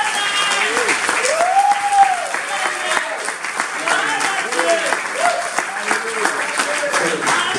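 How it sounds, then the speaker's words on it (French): A church congregation breaks into sustained applause during a French-language worship service, steady clapping throughout with a sung or shouted voice rising above it. "Acclamez."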